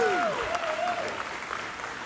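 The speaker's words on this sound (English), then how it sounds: "how about a round of applause for our legend, Doc Gooden?" A crowd breaks into steady applause, with whistles and cheers rising over the clapping.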